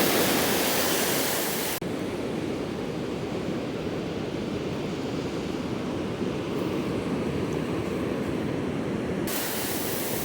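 Ocean surf breaking on a beach during surf fishing, a steady loud wash of broadband noise filling the whole clip, swelling slightly at the start and end with no voices.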